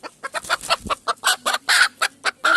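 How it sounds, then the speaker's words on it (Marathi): An ordinary hen clucking close by, a rapid series of sharp, separate clucks in an uneven rhythm, loud and alone without talk. "आणि ही आपली साधी कोंबडी आहे"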